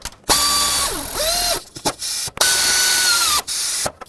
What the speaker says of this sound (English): then I'll tighten up the 2 top bracket bolts